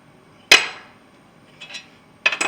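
A hammer strikes a front wheel hub on a 2007 Ford F-150 with a loud sharp clang, followed by a few lighter taps and a quick double hit, close by.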